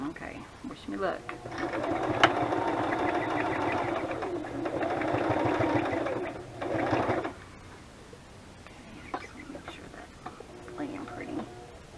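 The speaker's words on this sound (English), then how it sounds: "I might go ahead and sew on the lace too" Sewing machine stitching lace onto a handmade pink rose journal, running in steady rapid bursts of rhythmic stitching with short pauses, close and moderately loud, with a quiet voice murmuring near the end.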